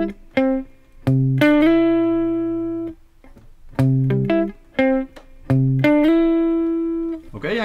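A guitar plays a short phrase of plucked notes, some ringing out and some sliding, with brief pauses between groups.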